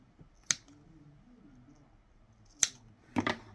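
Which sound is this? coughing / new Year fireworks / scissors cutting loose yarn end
scissors cutting loose yarn end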